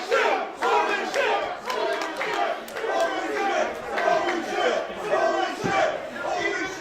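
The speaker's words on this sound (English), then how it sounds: "As the crowd here in the pin goes crazy." A wrestling event crowd in an arena roars and yells wildly in sustained, loud waves of cheering and shouting.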